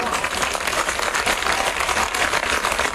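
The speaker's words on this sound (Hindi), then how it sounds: "जरा जोर से ताली बजा।" An audience at a BJP election rally for candidate Vishnu Khatri, addressed by Shivraj Singh Chouhan, bursts into dense, continuous clapping that stays loud and even for a few seconds with no break.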